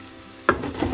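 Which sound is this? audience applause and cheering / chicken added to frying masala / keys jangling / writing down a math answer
chicken added to frying masala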